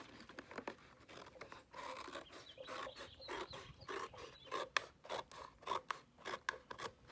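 Scissors snip through a cardboard box along its sides for a solar oven project, producing a close run of crisp, rasping cuts in irregular bursts with no talking.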